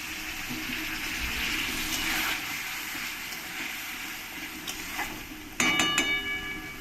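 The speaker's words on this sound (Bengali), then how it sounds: "এবার আমি মশলার মধ্যে সামান্য একটু জল দিয়ে দেবো" Water is poured into spice paste in a pan for a Bengali prawn curry, a steady sizzle that bursts into a louder hissing splash near the end.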